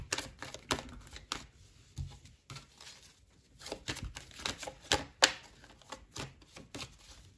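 Tarot cards are shuffled and drawn by hand, giving a rapid run of crisp papery flicks and taps in irregular bursts, close and fairly quiet, with no talk.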